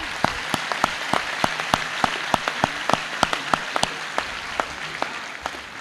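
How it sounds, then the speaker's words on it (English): Applause from the crowd at a high school class of 2022 graduation ceremony, a steady wash of clapping with distinct sharp claps standing out near the front, continuing evenly throughout. "How about a round of applause just for that alone?"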